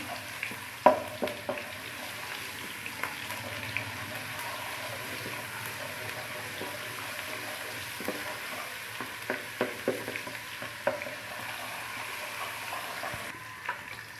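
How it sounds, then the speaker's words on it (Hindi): Ginger garlic paste sizzles and crackles in hot oil with occasional stirring clicks, a steady quiet frying sound throughout. "वन टेबल स्पून अदरक और लहसुन का पेस्ट डाल दिया। इसको हल्का सा फ्राई करेंगे।"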